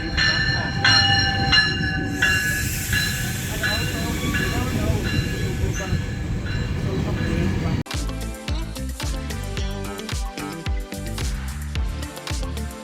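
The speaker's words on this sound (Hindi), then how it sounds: "तो ये रहा हमारा मिलिकन गो स्टेशन" A commuter train rumbles and clatters at Milliken GO station, loud and close throughout, with a sharper shift in the rail noise partway through and a voice talking over it.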